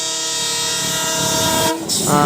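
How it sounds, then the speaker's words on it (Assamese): A train rumbles past loudly while sounding its horn in long sustained tones, with a brief break and a second blast near the end, in Sivasagar, Assam. "এইফালে ট্ৰেইন আহি আছে হৰণ দি আছে"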